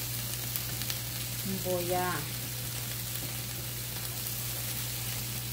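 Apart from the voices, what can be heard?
oil sizzling on a hot comal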